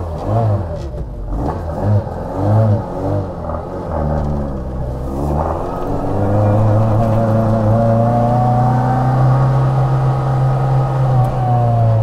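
A Mini fitted with a BMW K Series twin cam engine conversion drives by up close, its engine note rising and changing through the gears, then holding a steady loud drone under load. No one speaks.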